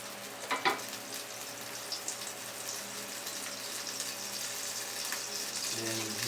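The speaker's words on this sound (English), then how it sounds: "basically melt the butter and then get it to foam a little" Butter melts and foams in a hot pan with a steady, close hiss and soft crackle, a couple of brief clatters near the start and a faint low voice near the end.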